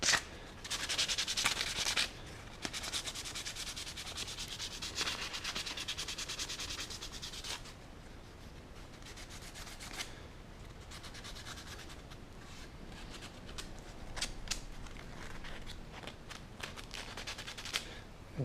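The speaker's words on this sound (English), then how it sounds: "the whole thing just a quick little sand so that I'm not going to get stuck on any burrs inside of it" Hand sanding a router-coped wooden baseboard gives close, steady, scratchy rubbing strokes, louder at first and then continuing at an even level, with no talking.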